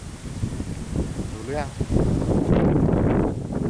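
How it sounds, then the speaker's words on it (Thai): Strong wind buffets the microphone outdoors at a fishing spot, a rough, gusting roar that grows louder toward the end, with someone talking over it. "ลมแรงหน่อย"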